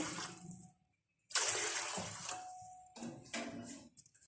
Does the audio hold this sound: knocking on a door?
no